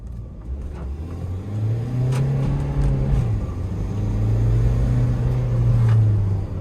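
An idling car engine with 153,370 km on it hums steadily up close, a low, even rumble that swells a little as the revs rise and fall, with no talking.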